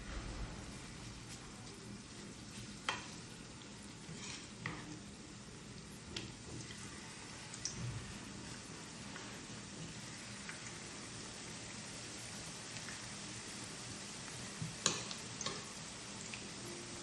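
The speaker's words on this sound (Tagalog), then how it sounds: "naglagay na ako sa pan ng oil at mainit na siya. At ngayon mag-start na ako mag-fry" Food fries in hot oil in a pan, a steady dense sizzle and crackle with occasional louder pops, continuous and close, with no voices.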